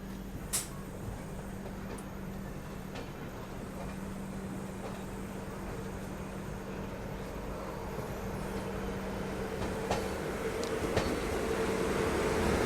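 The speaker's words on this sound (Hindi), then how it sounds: "वो आ गई, देखो सियालदह राजधानी।" The Sealdah Rajdhani Express, hauled by a WAP7 electric locomotive, approaches as a steady rail rumble that slowly grows louder, with a low mechanical hum and a few sharp clicks, no voices.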